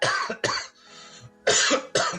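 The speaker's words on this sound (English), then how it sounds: "ignore my cough" Four sharp, close coughs in two pairs, separated by a brief quieter pause.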